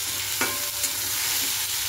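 Food fries in hot oil in a pan while it is stirred, giving a steady close sizzle with a couple of soft scraping strokes.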